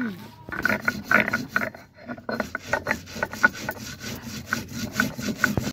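Spices for a mustard fish curry being ground by hand on a stone, giving repeated rhythmic scraping and rubbing strokes, close and fairly loud, with a brief pause early on and faint voices in the background.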